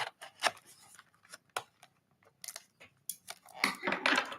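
Dull scissors hack at a cardboard box in a series of short, uneven snips and scrapes, close and fairly quiet, with a few louder rustling cuts toward the end.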